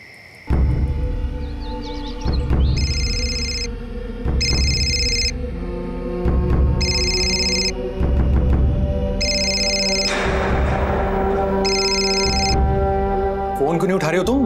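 A telephone rings in five regular bursts of high, warbling tones over loud background music or soundtrack.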